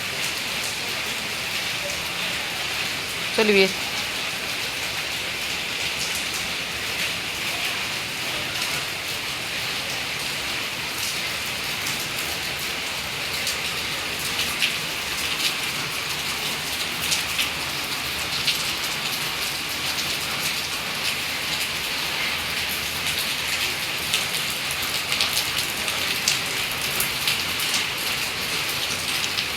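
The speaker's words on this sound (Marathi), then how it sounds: "किती पाऊस आलाय बापरे!" Heavy rain pours steadily and loudly for the whole stretch, a dense unbroken hiss, with a brief voice calling out near the start.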